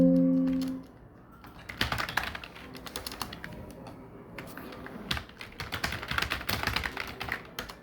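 A computer keyboard is typed on to enter text into a PowerPoint text box, with rapid, uneven clicking keystrokes in two runs after a brief tone fades out.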